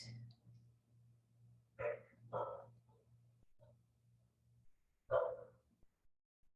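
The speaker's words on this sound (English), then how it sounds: "Hear my dog." A single dog barks a few times indoors, sharp isolated woofs spaced out over a quiet room with a low steady hum beneath.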